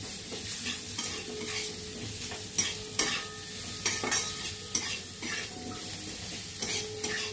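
A spice mix for banana flower curry fries and sizzles in a pan while a spoon stirs it, with steady sizzling under repeated scraping strokes and occasional clinks against the pan.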